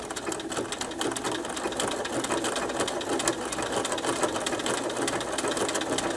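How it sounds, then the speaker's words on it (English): A sewing machine runs steadily, stitching the outside edge of a fabric coaster padded with an extra layer of batting; the motor whirs continuously with a fast, even needle rhythm throughout, close and moderately loud. "it's going to do its outside stitch there"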